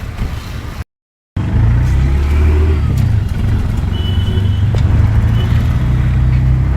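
Shared auto-rickshaw ride: a steady, loud small-engine drone with low rumble runs throughout, broken by a brief dropout near the start.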